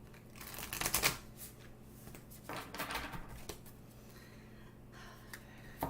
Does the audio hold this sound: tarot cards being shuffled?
yes